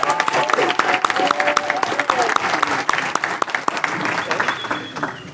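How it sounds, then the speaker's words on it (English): A Hall of Fame ceremony audience gives an inductee a lively round of applause, crisp clapping close by with scattered voices and cheers mixed in throughout. "let's give Trey a round of applause"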